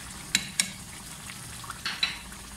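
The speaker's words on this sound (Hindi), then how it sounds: "अब इसे अच्छे से मिक्स कर लेते हैं।" Yogurt, coriander and cumin powder are stirred into chicken korma, with a few sharp clinks of a spoon against the pot over a soft, low sizzle.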